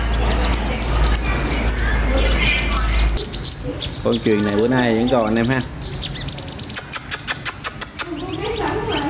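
A decoy sunbird used for trapping sings in fast, high chirps and trills, loud and close, with someone talking over much of it and a low hum underneath.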